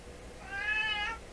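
A cat gives a single short, clear meow close by, with no talking over it.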